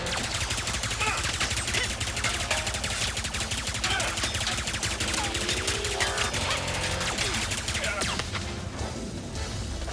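Dense, rapid gunfire from a weapon in the Ratchet & Clank video game, with continuous bursts of shots and crashing impacts layered loudly through the whole stretch, easing slightly toward the end.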